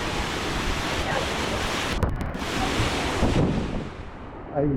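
Water at Charlotte Lake flows steadily toward a waterfall by a dam, making a continuous rushing wash mixed with wind noise on the microphone, moderately loud and unbroken for several seconds.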